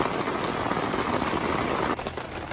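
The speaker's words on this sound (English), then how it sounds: "We're trying to eat breakfast in the tent because it's been raining for 7 hours" Steady rain patters on a camping tent during a long downpour, a dense, close hiss of drops hitting the fabric with a brief shift in texture near the end.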